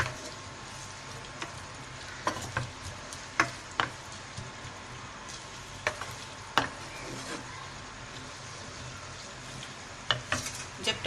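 Chopped onions for a bhindi (okra) fry sizzle steadily in a pan on low heat, a continuous hiss broken by scattered sharp clicks and taps of stirring utensils against the pan.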